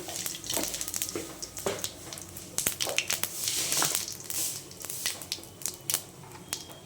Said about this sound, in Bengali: দিয়ে দিচ্ছি তেজপাতা, তেল গরম হয়ে গেছে।